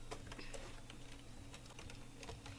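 Soft, rapid keystrokes on a computer keyboard tap along steadily, faint and close, over a constant low background hum with no talking.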